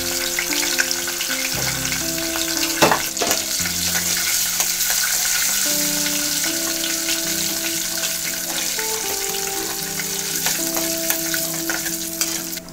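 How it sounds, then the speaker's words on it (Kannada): Mustard seeds crackle and sizzle steadily in hot tempering oil for a Chinese potato (cooka) upkari stir fry, a close, continuous frying hiss with occasional stirring scrapes throughout. "ಈಗ ಸಾಸಿವೆ ಹಾಕ್ತೇನೆ ಕೂಕ ಪಲ್ಯಕ್ಕೆ."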